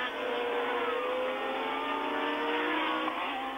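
Formula 1 race car engines at Dijon-Prenois in 1979, a continuous high-pitched whine of cars screaming around the circuit, steady and fairly loud with no talk over it.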